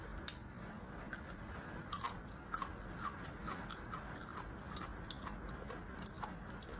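Crunchy, spicy Chinese bamboo shoots are chewed close to the mic, giving faint, irregular crisp crunches over a quiet background.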